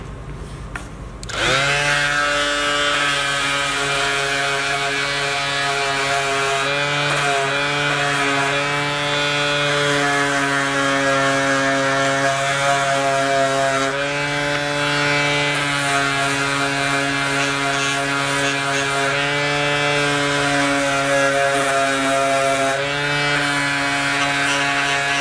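A power sander whines steadily and loudly against the wood of a Yamaha C7 grand piano. It runs continuously for about 25 seconds with a strong harmonic drone, and nobody speaks.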